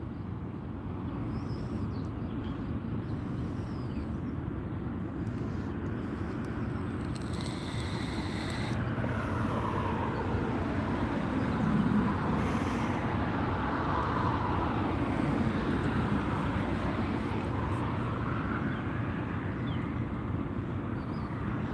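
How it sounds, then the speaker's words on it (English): A train passes some distance away, a low, steady rumble that holds for about twenty seconds with a slight swell toward the middle and no one speaking. "It is a little ways off, but there is a train going by."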